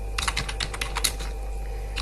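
Close keyboard typing of C++ code: a quick run of crisp key clicks for about a second, followed by a quieter pause with faint hum.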